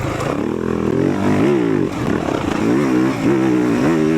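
A 2026 Yamaha YZ450F dirt bike roars on a backyard sand track, its four-stroke engine loud and close with continuous revving that rises and falls through gear changes.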